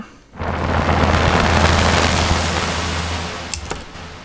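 A synthesized explosion made with a Roli keyboard patch erupts with a sudden broad roar and deep rumble, sustains for a few seconds, then fades, ending with a couple of small crackles.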